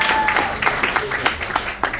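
An open mic comedy crowd claps, a brief burst of scattered applause mixed with voices talking and calling out.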